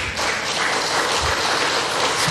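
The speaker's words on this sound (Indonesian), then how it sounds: "Supaya tepuk tangannya terbagi merata," Dense audience applause fills the stage at the Indonesia Stock Exchange's 2021 trading-closing ceremony, a steady broadband wash of many clapping hands with no gaps, fairly loud and continuous throughout.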